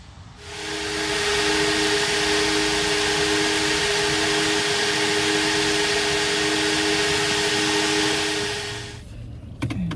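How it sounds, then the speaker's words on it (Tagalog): A vacuum cleaner runs steadily at close range while cleaning a car interior, loud with a whining tone over a broad hiss, then switches off near the end. "Yan, vacuum."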